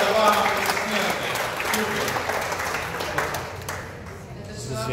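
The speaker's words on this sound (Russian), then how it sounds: "а это вам аплодисменты" An audience at an Expo business event applauds, a dense burst of clapping that gradually thins and fades toward the end, with crowd noise underneath.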